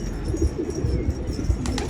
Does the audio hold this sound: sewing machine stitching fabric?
no